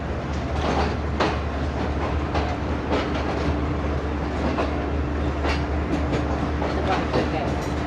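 The Shalimar Express of Pakistan Railways pulls into platform 1 at Rohri Junction with a steady low rumble, rhythmic clickety-clack of wheels over rail joints and a constant hum.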